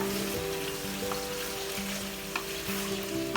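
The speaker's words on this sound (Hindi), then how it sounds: "इनको जी हमने फ्राई करना है पहले सही से" Eggplant pieces frying in a pan give a loud, dense, continuous sizzle with crackling spatters and a low steady hum beneath, close and constant throughout.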